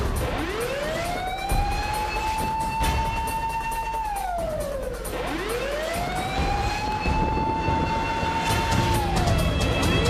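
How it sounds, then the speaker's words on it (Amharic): A police car siren in an old Amharic film wails in slow rising and falling sweeps, two full cycles, loud and fairly close, with engine rumble underneath and no talk. "ፖሊስ መኪናው እየተከተሉን ነው።"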